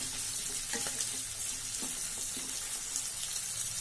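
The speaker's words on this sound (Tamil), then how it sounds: "வெங்காயம் வதங்க உப்பு சேர்த்துக்கிறேன். வெங்காயம் வதங்கட்டும்." Onions sauté in hot oil with salt for a spicy egg chilli with capsicum, a constant close hissing sizzle with a few soft spoon taps and scrapes against the pan.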